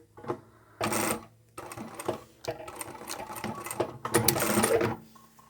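A sewing machine back stitches a beanie cap in short bursts of rapid needle chatter, sewing forward and back, with brief pauses and soft handling clicks in between, close up.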